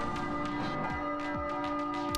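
A bell tolls in the PlayStation 2 game Stretch Panic, several clear ringing strikes with sustained metallic tones layered over game background sound, loud and close, with no speech.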